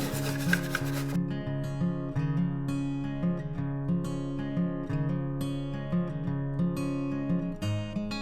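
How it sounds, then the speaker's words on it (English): A scraper tool rubs steadily over Cricut stencil vinyl with transfer tape, giving a soft, continuous scraping texture in quick repeated strokes, close and fairly quiet, with no talking. "Now what you want to do is grab that scraper tool again"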